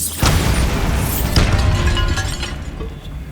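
A loud, booming blast from the Bombarda explosion spell in the video game Hogwarts Legacy, with a sharp onset followed by a long rumbling, crackling decay and a second burst partway through.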